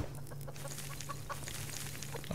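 Chickens cluck in the farming survival game Subsistence, a close, continuous run of short clucks over a low steady hum.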